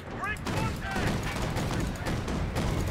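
Dense, continuous automatic fire and scattered battlefield shots rattle throughout in Company of Heroes 2, with machine gun bursts mixed into a busy, loud war soundscape and brief bits of voice.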